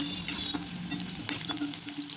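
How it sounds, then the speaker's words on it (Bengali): Soya chunks dropped one at a time into hot oil in a kadai give off a steady, close frying crackle with small pops and light stirring scrapes, and no voices are heard. "তেলটা গরম হয়ে গেছে এখন আমি সয়াবিনগুলো একটা একটা করে ভাজার জন্য দিয়ে দিলাম"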